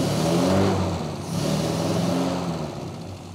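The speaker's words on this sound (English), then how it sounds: "you rev it up and blow it out" A Mini's A-Series engine revs up hard during a carburettor tune-up, a loud close roar that rises, eases and surges again before settling toward idle.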